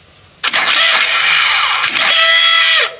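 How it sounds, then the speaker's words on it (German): The engine of a Pegasus Sky 50 motorhome cranks with a weak battery, a loud, steady whirring starter churn that lasts several seconds without catching, then cuts off. "Außerdem will er jetzt gar nicht mehr anspringen, wahrscheinlich ist die Batterie zu schwach."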